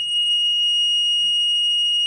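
A fire detection system's alarm buzzer sounds one continuous, steady high electronic tone, unbroken and fairly loud, with no voices.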